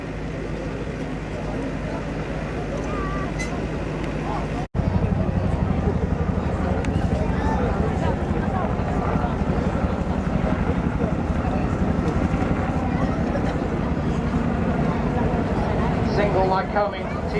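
A Bell Huey helicopter with a Lycoming T-53 turboshaft performs at the Blackpool airshow, giving a steady, loud, broad rotor and turbine roar that continues throughout while a commentator talks over it on the public address.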